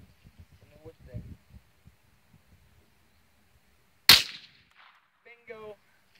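A single sharp gunshot cracks out loud at an Easter egg target outdoors, standing alone after quiet rustling, followed by brief faint clatter and a short spoken word.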